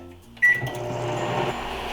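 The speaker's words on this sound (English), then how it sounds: "we're going to take the cheese over here to the microwave" A microwave oven melting cheese gives a sharp beep, then settles into a steady, close hum that runs to the end with no talking.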